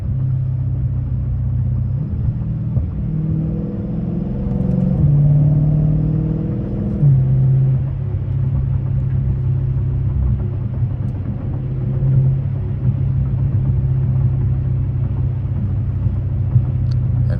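A Dodge Challenger Scat Pack V8 rumbles deeply while driving at night, a steady low growl that swells briefly as the engine revs, then settles back into a constant drone.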